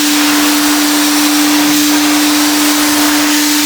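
A Titan Capspray 6-stage HVLP turbine paint sprayer runs in bleeder mode with air flowing constantly, spraying unthinned paint. Its turbine gives a loud, steady, unbroken whoosh with a fixed whine throughout, and no voices are heard.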